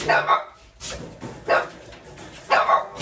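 Several dogs bark indoors in a home in short, loud bursts, three clusters roughly a second apart, close to the listener, with people talking around them.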